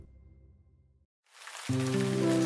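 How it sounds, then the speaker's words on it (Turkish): Cartoon rain begins after a brief musical tone and a pause, settling into a steady hiss of falling drops alongside a bright sustained tone. "Gökyüzü bulutlu Yağmur yağıyor"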